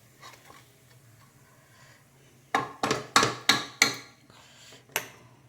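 Spices for homemade tomato thokku frying in hot oil, a run of quick sharp crackles and stirring scrapes against the pan after a quiet start, with one last pop near the end.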